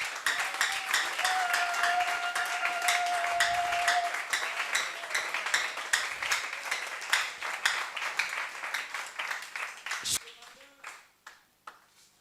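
A church congregation applauds to acclaim the Lord at a French-language service led by a pastor, dense sustained clapping with a held tone early on, thinning into scattered claps and fading out near the end.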